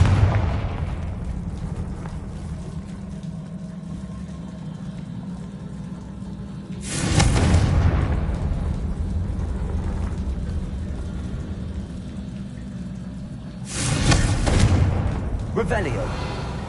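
Two heavy, booming blasts of the Confringo fire spell in Hogwarts Legacy, spaced about seven seconds apart over a constant low rumbling game backdrop, each a loud broadband burst that trails off.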